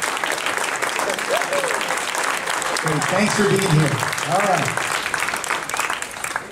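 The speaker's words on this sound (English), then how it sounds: "Would you please stand up so we can give you a round of applause?" Steady wash of audience applause welcoming first-time attendees as they stand, continuous and fairly loud for several seconds, with someone speaking briefly over it.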